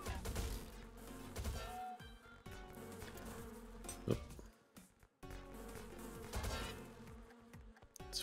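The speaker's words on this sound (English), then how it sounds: "Nothing a few dozen wasps can't handle." Swarm of wasps buzzing in a trippy turn-based roguelike game, a faint continuous insect drone with scattered impacts and game effects, quiet overall and interrupted by brief pauses.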